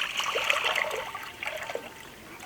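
Regular water is poured into a container in an outdoor class setting, a close, uneven trickling and splashing that comes in small bursts and tapers off.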